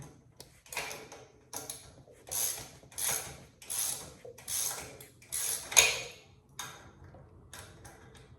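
Bolts are tightened on a Yamaha Blaster ATV with a hand tool, which gives a quiet, steady series of about a dozen evenly spaced ratcheting clicks. There is no talking.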